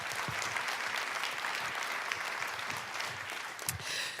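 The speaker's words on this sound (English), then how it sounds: "can we just give everyone a round of applause before I say some names?" An audience at a youth climate summit claps together in sustained applause, many hands close and loud, with a few louder claps standing out and no talk over it.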